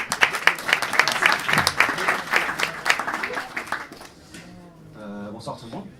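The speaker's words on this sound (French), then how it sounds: "On peut applaudir Alexis de l'Olympique." Audience applause for a speaker at a Strasbourg startups meetup on brand strategy, dense clapping for about four seconds that thins out, followed by quieter room sounds.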